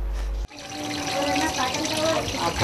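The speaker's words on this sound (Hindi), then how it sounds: "नगर में पीने का पानी नलों से कैसा आ रहा है, इसे भी देखें।" Drinking water gushes steadily from a municipal tap in Indore, reported as dirty and mixed with drain water, a close, continuous splashing flow that starts abruptly after a brief cut and runs alone without speech.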